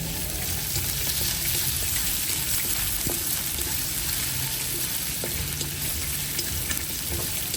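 Sliced ginger frying in a small amount of hot cooking oil for an escabeche of dalagang bukid fish, giving a steady close sizzle and crackle with occasional stirring clicks, alone and continuous.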